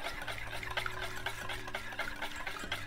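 Olive oil whisked into a Dijon mustard and vinegar vinaigrette, a quick rhythmic clinking and sloshing of a whisk in a bowl, close and steady without talk.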